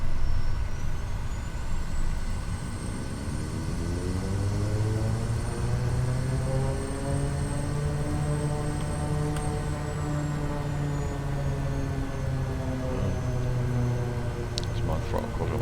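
Kodiak turboprop engine spooling up in a flight simulator, a steady rising whine and rumble that climbs in pitch and settles into a continuous drone, with a voice speaking over it.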